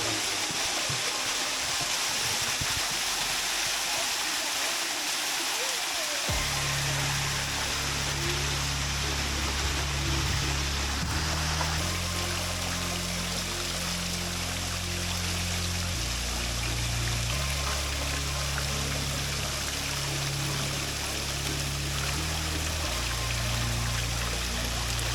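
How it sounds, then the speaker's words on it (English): A waterfall in Cyprus pours in a loud, constant rushing roar throughout, with a low droning hum shifting underneath. "And here is a waterfall, and how beautiful is it?"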